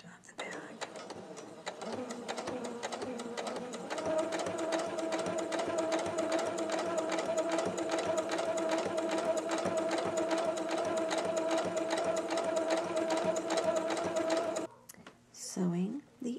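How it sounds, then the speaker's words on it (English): A sewing machine stitching the outer fabric of a bag together runs in a steady, fast mechanical whir with a rapid needle rhythm, close and continuous for most of the time, then stops near the end. "Sewing the outer bag together for you."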